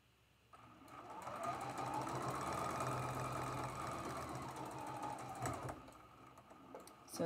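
A sewing machine stitches a quilt seam for a traditional Bear Tracks quilt block, running in one steady, continuous burst for about five seconds, close and fairly loud, then stopping.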